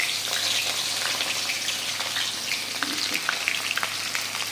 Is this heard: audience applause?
no